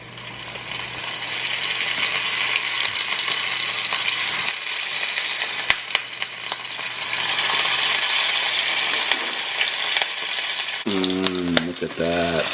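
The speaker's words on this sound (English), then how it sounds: "We got a pan of hot oil over here, heated up, ready to go. We're gonna fry these bad boys up." Taco shells stuffed with toppings deep fry in a pan of hot oil, giving a loud, constant close-up sizzle and crackle that shifts briefly as food is moved, with bubbling pops near the end.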